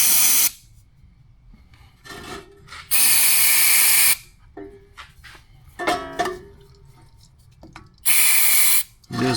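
Brake cleaner sprays onto the pinholes of a rear brake bracket on a 2005–2010 Jeep Commander in three loud, hissing bursts of about a second each, separated by quieter handling noises and clinks.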